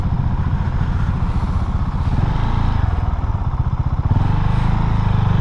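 A KTM Duke 690 R motorcycle being ridden through town, its single-cylinder engine giving a loud, close, steady pulsing thump that rises slightly partway through, with no talking over it.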